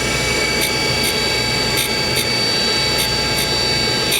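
A cutter grinder works the front cutting edge of a carbide insert: a steady, loud mechanical whine runs throughout, punctuated by regular light ticking contacts.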